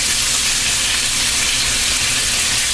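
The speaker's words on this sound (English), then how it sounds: "the wok is starting to get hot, so we're gonna take our marinated meat of salt and pepper and steak and start adding this to the" Marinated salt-and-pepper steak frying in a hot wok, a steady close sizzle with a broad hiss running unbroken and loud throughout.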